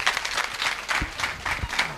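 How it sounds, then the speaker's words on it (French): An audience at a workshop in Dapaong claps together in a steady, moderately loud round of applause that carries through the whole moment with no speech over it. "on applaudit encore fortement"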